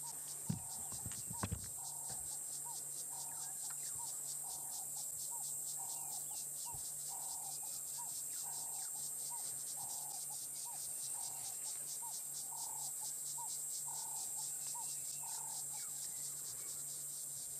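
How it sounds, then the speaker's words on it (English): A steady, rhythmic insect chirring pulses continuously at a faint level, with a brief knock near the start and a constant high whine. "let's take a moment to just appreciate the sounds of the cicadas."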